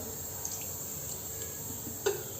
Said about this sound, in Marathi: हे तेल घालते मी कढईत